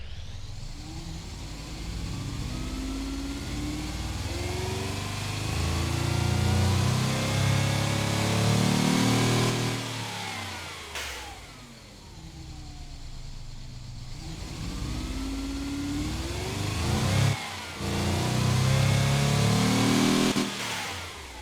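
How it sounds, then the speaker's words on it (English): A simulated V12-style car engine in a 1980s hypercar in the Automation and BeamNG.drive games revs hard through rising and falling sweeps, dropping back twice before climbing again, loud and close with no talking. "I'd say that sounds good, like a more refined version of a V12."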